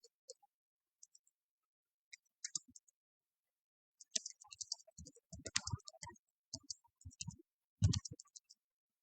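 Soft clicks on a computer mouse and keys, scattered single taps early then denser bursts of clicking, quiet and close in an otherwise silent room.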